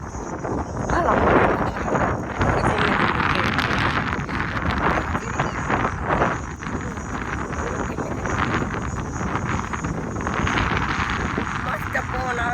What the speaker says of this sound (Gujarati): મસ્ત પવન આવે છે